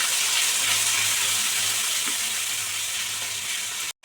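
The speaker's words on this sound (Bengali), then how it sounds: "ভালো করে মশলাটা আগে কষে নিতে হবে" Kashmiri chilli powder and turmeric fry in a pan for lau chingri, a bottle gourd and prawn dish, giving a loud, continuous hiss while being stirred, cut off briefly near the end.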